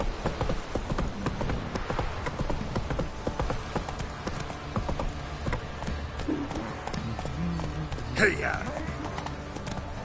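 Geralt's horse Roach gallops in The Witcher 3, hooves clip-clopping in a fast, loud, steady rhythm close by, while someone shouts and urges the horse on over the hoofbeats.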